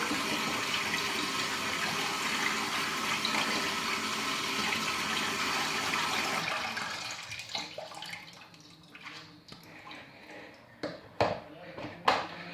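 Soaked wheat grains being drained, a steady rush of pouring water for several seconds that gives way to scattered drips, splashes and handling knocks, with a person speaking over it.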